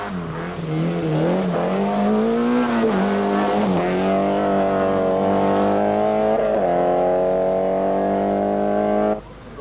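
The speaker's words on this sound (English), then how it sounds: "as through comes number 3, Henk Vossen, with his Opel Manta 400, down this long straight into a 90-degree right." An Opel Manta 400 rally car at the 1985 Hellendoorn Rally in Holland comes down a long straight toward a 90-degree right, its engine note loud and close, rising in pitch as it revs and changes gear before cutting off abruptly near the end.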